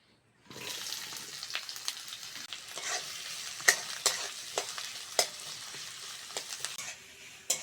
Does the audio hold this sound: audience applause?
no